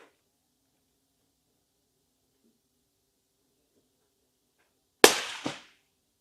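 A single loud, sharp rifle shot from a Ruger American in 300 Blackout with a 12-power scope, fired at 100 yards outdoors, cracking out alone after a long quiet stretch and trailing off in a short echo.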